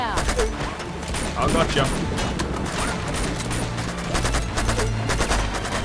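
Rapid gunfire from Uncharted 2, dense volleys of shots and crashes running continuously and loudly throughout, with someone speaking briefly over the fighting.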